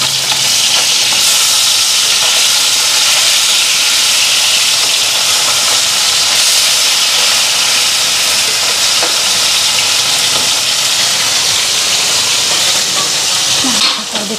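Fish fries in a pan of hot oil with a loud, close, unbroken sizzling hiss that stays steady throughout, with a few faint clinks near the end.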